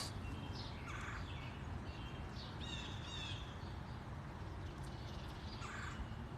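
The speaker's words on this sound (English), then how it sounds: "So pretty listening to the birds." Birds call outdoors over a steady low background hum, with several scattered chirps and a few harsher caws at moderate distance.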